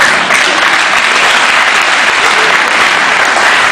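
A large conference audience claps loudly and steadily, dense applause filling the whole stretch without a break.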